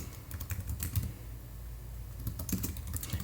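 Quiet computer keyboard typing while entering a paycheck into a budgeting app, a soft run of irregular key clicks in short bursts with a pause in the middle.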